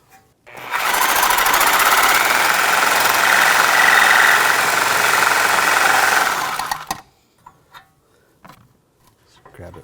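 A loud, harsh power cutting tool grinds steadily for about six seconds through a seized bolt on an Audi A4 Quattro rear upper control arm, then cuts off, followed by faint metallic clinks and handling noises.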